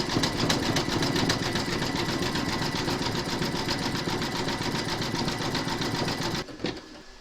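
Embroidery machine satin stitching around the edge of a maple leaf applique, a fast steady mechanical whir with rapid rhythmic needle ticks that runs loud and close, then stops abruptly near the end.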